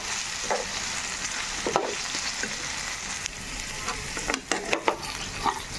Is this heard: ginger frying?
yes